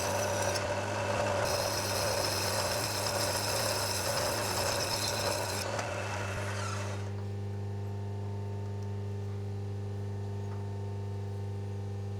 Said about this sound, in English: I'll do the rest with the file